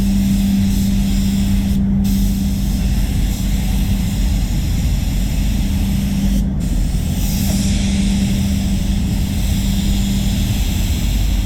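Steady loud spray-gun hiss as a candy coat goes onto a Mazda CX-5 during a respray, continuous for the whole stretch with a constant low hum beneath and no talk.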